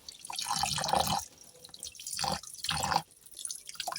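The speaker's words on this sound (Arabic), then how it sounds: "عايزة اوريكم طريقة عشان تقلبوه تحت المية" Tap water runs while beef intestines are washed and turned under the stream, giving close splashing and dripping in uneven bursts with quieter gaps between them.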